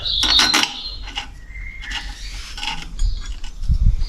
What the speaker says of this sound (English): torque it down to 50 Newton meters